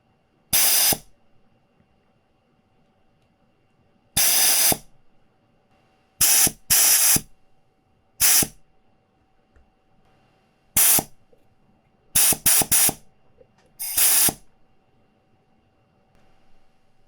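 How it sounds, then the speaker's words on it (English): A Metcal compressor-powered desoldering gun vacuums solder from the pads of a lead-free circuit board in a Roberts RD70 FM and DAB radio, giving about eight sharp, loud bursts of hissing suction separated by quiet pauses. "A bit of heat and vacuum"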